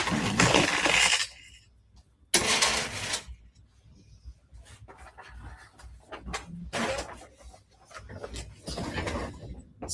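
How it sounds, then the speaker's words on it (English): Strands of pearls are set down on a surface, giving short clattering bursts of beads that rattle and settle, separated by quiet gaps and softer small knocks. "Let's just put these pearls down."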